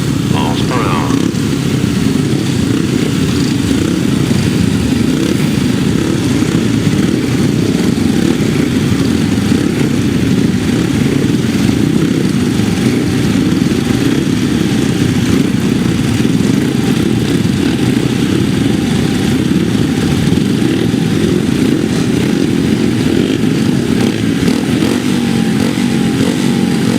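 600cc grasstrack racing motorcycles roar in a continuous, loud, dense engine drone at a 2005 race meeting, steady throughout with a crowd-like wash beneath.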